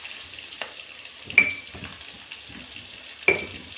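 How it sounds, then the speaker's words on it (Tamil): Curry leaves sautéing in hot oil, a faint crackling sizzle with a few sharp pops and spoon clinks at irregular intervals, quiet and close. "நல்லா வதக்கிக்கிறேன். இப்போ கருவேப்பிலை போட்டுக்கிறேன்."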